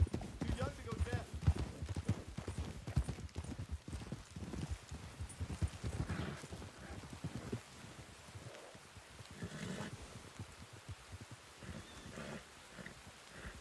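Horse hooves clip-clop along in a Red Dead western roleplay game, a busy rapid patter of one or two horses, fairly faint and close, mixed with other game sounds and a voice talking over it.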